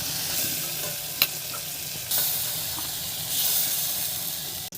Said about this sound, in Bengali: এরপরে কিন্তু চিংড়ি মাছগুলোকে ভেজে নিতে হবে